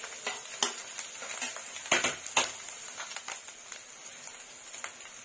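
Onions with ginger-garlic paste frying in a pan: a soft steady sizzle with scattered scraping and stirring clicks of a utensil against the pan, fairly quiet and close, no talking.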